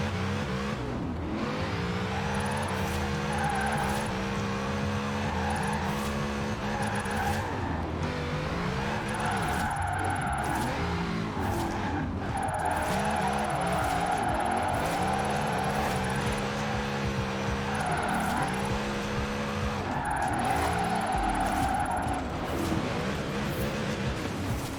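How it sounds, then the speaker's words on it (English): Formula Drift car in Forza Horizon 4 sliding through switchbacks, engine revving up and down in repeated waves with bouncing limiter notes and tire squeal, loud and continuous with no talk. "That's a Formula Drift machine, so you've got over 70 degrees of steer angle to play with."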